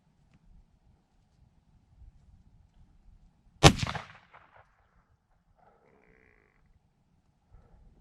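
A single sharp rifle shot at a whitetail buck on a Colorado deer hunt, loud and close, with a short decaying echo rolling off afterward amid otherwise quiet outdoor surroundings.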